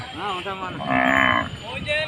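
Bullocks at the Yemmiganur village fair low loudly and close by, one long drawn moo swelling in the middle between shorter calls, amid the background murmur of the livestock market.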